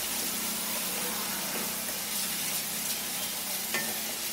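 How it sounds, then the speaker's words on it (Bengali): Curry masala with garam masala powder stirred in a hot pan for egg malai curry, a steady close sizzle of frying spices with faint scraping of the spoon, no talking. "আবারও এটাকে ভালো করে নেড়ে নিচ্ছি।"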